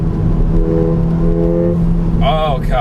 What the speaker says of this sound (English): When you keep it in the higher RPMs and the turbo is just there every time you hit the throttle